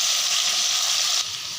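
Potatoes sizzling in a pan with salt and turmeric, a bright steady hiss that drops slightly near the end, no voices.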